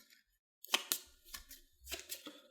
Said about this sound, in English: Let me shuffle them again.